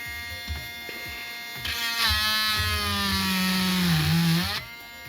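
A power drill whines steadily into wood over a sacrificial piece, its pitch rising and dipping under load for a few seconds, close by, then stops.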